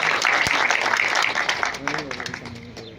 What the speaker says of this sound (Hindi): आप लोग जोरदार तालियों से स्वागत करें।